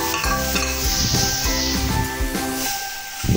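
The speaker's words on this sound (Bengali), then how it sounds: "এবার দিয়ে দেবো তরকা, সেই 5 মেশালি ডাল যেটি আমি সিদ্ধ করে রেখেছিলাম, সেটিকে দিয়ে এখন সুন্দরভাবে নাড়াচাড়া করে নেব।" Egg tarka with boiled five-lentil dal is stirred in a hot pan, producing a wet, hissing sizzle with repeated scraping strokes and soft clinks throughout.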